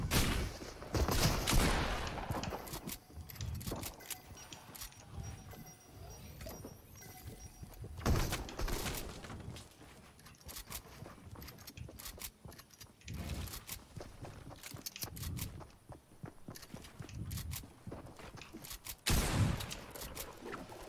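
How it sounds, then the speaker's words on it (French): Scattered gunfire crackles all around during a Fortnite match, with repeated bursts and single shots at varying distances, some loud and close, others distant, over continuous game ambience. "Ça tire un peu partout."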